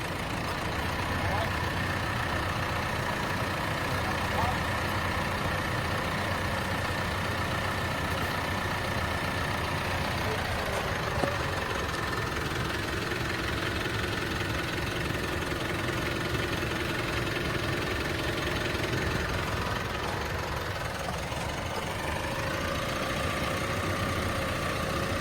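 A 4WD vehicle with failed brakes in the Victorian High Country runs at a steady idle, its engine a continuous low rumble close by, with people talking over it.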